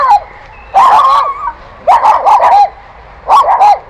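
Dogs in Budapest's Philosopher's Garden bark in three short, loud bursts of a few yips each, separated by brief quiet gaps, close by outdoors.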